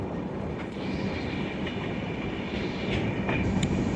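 A passenger train rumbles along near Pakala Junction, recorded on board as a continuous steady roar of wheels on rail with faint clacks and occasional high squeals.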